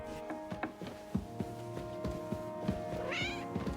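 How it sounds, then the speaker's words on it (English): A cat in the medieval role-playing game Kingdom Come: Deliverance II lets out a drawn-out meow over game background sounds with tonal hum and repeated soft thumps, and a higher, wavering cry comes near the end. "Just heard a kitty cat."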